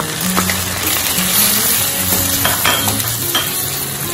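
Onions and tomatoes sauté in a pan for a prawn curry, making a loud, close, steady sizzle with repeated spatula scrapes and clicks throughout, and no voices.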